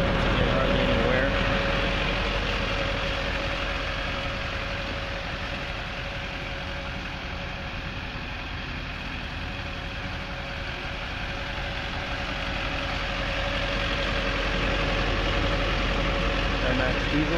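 A 2006 Hummer H1 Alpha open-top with a Duramax diesel engine idles nearby in a steady, even rumble that holds throughout, while people talk over it.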